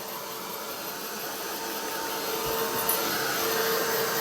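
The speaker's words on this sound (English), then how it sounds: "Doesn't like the sound of the hairdryer." A hair dryer blows continuously with a steady, close whooshing roar that grows slightly louder toward the end.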